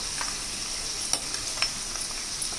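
Chana dal frying in oil in a home kitchen pan, a steady close sizzle with a few soft clicks of a spoon stirring, no voices over it.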